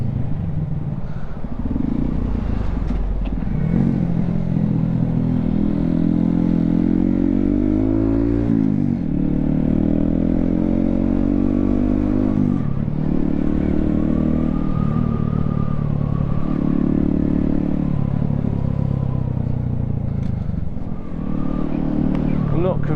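Honda Grom motorcycle ridden along a green lane, its small engine droning loud and close throughout with repeated rises and falls in revs as it shifts and accelerates, plus some rattling.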